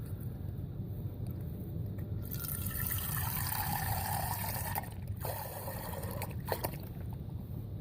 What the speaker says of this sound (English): So you get your water in your canteen.